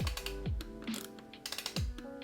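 A torque wrench tightening a bolt on a OneUp bash guide, quick ratcheting clicks in bursts with low sliding squeaks between strokes, heard up close.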